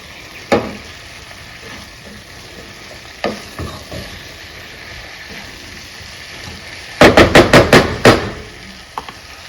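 Seasoned food frying over a gas flame at the highest heat, a steady loud sizzle broken by a few sharp knocks early on and a quick burst of clattering stirring strokes near the end.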